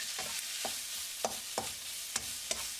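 Leftover chicken stirred in a hot frying pan, giving a steady sizzle with a few sharp scrapes of a utensil against the pan, close and alone without talk.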